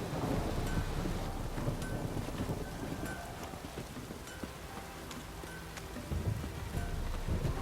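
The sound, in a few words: rain downpour in The Witcher 3 video game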